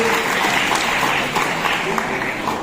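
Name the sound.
audience applause at career seminar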